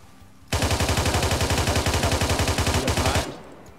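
Machine gun fire in a video game bursts out as one continuous rapid stream of evenly spaced shots, loud and close, lasting about three seconds before cutting off abruptly.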